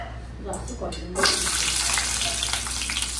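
Prawns hit a hot pan in a home kitchen and break into a loud, bright sizzle that holds steady after a brief quieter moment where a voice is faintly heard.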